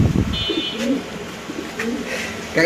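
King pigeons cooing at close range in a pigeon market, giving soft low rounded coos with some chirps in the background and steady ambient noise.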